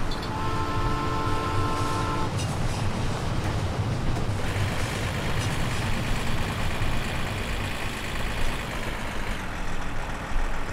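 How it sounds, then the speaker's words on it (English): A continuous rumbling roar of a passing train in the video game My Summer Car, broad and steady, with brief tonal hums early on and no talking. "I hear a train."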